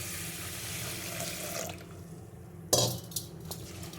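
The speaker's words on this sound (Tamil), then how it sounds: "நான் ரெண்டு தடவை நல்லா களைஞ்சிட்டு இதை ஊற வச்சிட போகிறேன்" Black kavuni rice being rinsed in water at a kitchen sink, with steady running and sloshing water, then a sharp clatter and a few splashes near the end.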